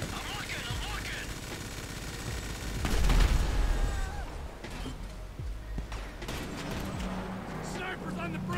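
Gunfire aimed at a helicopter in GTA V: bursts of rapid shots with one heavier thump near three seconds, mixed with game effects and ongoing talk.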